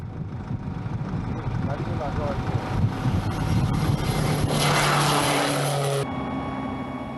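A military test aircraft from the 281st Test Flight Squadron roars through a climb on a test flight, its engine drone swelling and then cutting off abruptly, with a narrator talking over it.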